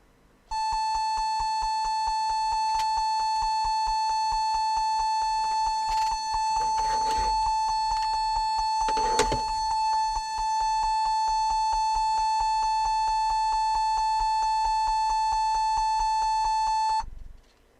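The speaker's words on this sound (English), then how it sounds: "If I power it up and let it beep, and then shut it down again." A Compaq Presario F500 laptop emits a steady, unbroken electronic beep on power-up, holding one loud tone for about sixteen seconds before cutting off, with faint handling noises underneath.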